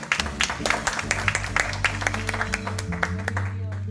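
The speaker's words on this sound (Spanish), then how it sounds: "Vamos a darle un aplauso a la hermana con sus hijos." Church congregation applauding in a Hispanic ministry service, brisk clapping with distinct sharp claps over a crowd murmur and a background musical drone, fairly loud and close.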